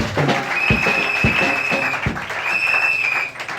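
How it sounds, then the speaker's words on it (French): A church congregation applauds in a French-language service, a close, busy clatter of hands with a few sharper claps standing out and a high whistle-like tone drifting over the top. "Acclame Jésus fort."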